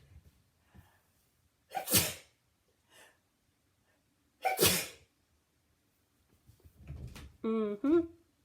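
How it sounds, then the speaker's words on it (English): Two sharp, close sneezes from an allergic woman about two and a half seconds apart, each with a quick intake before it, in an otherwise quiet room, followed by some breathy shuffling and a brief squeaky snort-like sound near the end. "I'm about to sneeze."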